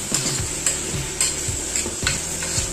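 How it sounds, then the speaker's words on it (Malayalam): Chopped tomato sautéing with onions in a pot for chicken biryani, a regular series of metal spoon scrapes and clinks over a low, steady sizzle. "ചെറുതായിട്ട് കട്ട് ചെയ്ത് വെച്ചേക്കുന്ന ഒരു തക്കാളി അതൊട്ടിട്ട് കൊടുത്ത് ഒന്ന് വഴറ്റി"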